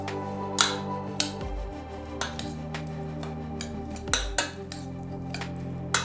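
Herring and mushroom appetizer being mixed with pepper in a bowl, with sharp clinks and scrapes of utensils against dishes at an irregular pace, close and moderately quiet.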